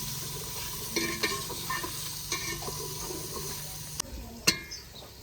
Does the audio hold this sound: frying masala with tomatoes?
yes